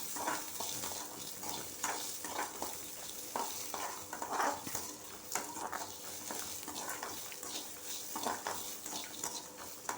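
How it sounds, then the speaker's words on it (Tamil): Ridge gourd peel sautés in a pan for a Tamil chutney, with a soft sizzle under repeated rhythmic stirring and scraping strokes of a spoon against the pan, close and fairly quiet, with no voices. "ரெண்டு நிமிஷம் வதக்கிக்கிறேன்"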